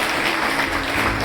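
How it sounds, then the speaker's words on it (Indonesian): An audience at a multi-ethnic community forum in Sumbawa claps together in a loud, dense, continuous burst of applause. "Ini tepuk tangan buat kita semua."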